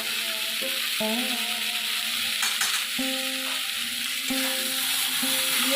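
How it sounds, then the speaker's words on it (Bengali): Vegetables with spices and salt stir-fried in a pan, a continuous hissing sizzle with tonal scraping squeals from the spatula recurring every second or so, close and steady. "ভালো করে এটা আমি কষে নেব নুনটা দেওয়ার পরে"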